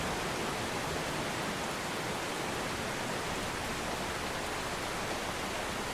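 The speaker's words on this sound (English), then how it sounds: "There's a tornado right there, and it's so hard to see because of all this rain." Heavy rain pours steadily around a rain-wrapped tornado in the storm-chasing video game OUTBRK, a dense, unbroken hiss of downpour that stays loud and even throughout with no voices.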